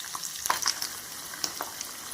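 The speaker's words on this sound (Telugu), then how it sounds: "ఆయిల్లో డీప్ ఫ్రై చేసుకోవాలి." Large pieces of paneer deep fry in hot oil, a soft steady crackle with a few sharp pops and spits scattered through, close and fairly quiet, with no talking.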